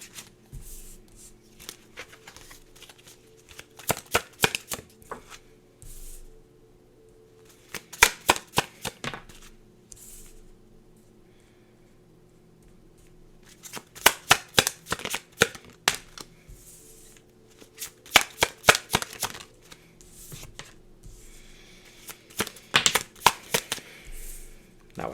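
Tarot cards being shuffled up close in bursts of quick riffling flutters, with quiet pauses between each burst over a faint background hum.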